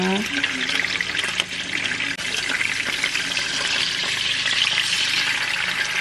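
Garlic frying in oil in a home kitchen, a steady dense sizzle running throughout with faint stirring and background talk underneath.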